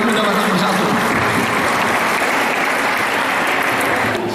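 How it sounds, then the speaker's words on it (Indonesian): A large gathering of the Pemuda Batak Bersatu youth organisation in West Jakarta bursts into loud, close, continuous clapping that fills the space evenly without a pause. "Sekali lagi tepuk tangan buat Pemuda Batak Bersatu."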